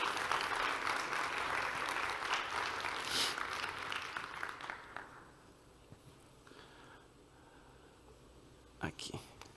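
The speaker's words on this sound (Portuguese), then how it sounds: "Palmas, gente." Audience applause at a panel on ancestral Amazonian cooking, a dense broad clatter of clapping that fades after about five seconds, leaving quiet room noise and a couple of brief knocks near the end.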